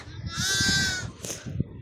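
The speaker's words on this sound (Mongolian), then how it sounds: "Одоо ишиг харуулнаа." A goat kid bleats in one long, wavering cry, close and loud, followed by a shorter bleat, with faint rustling and background noise.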